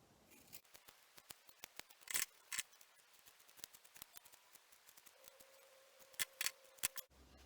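Scissors trim a wool pom-pom in a long series of crisp, close snips, irregular and sometimes in quick pairs, with a few louder cuts and quiet pauses between.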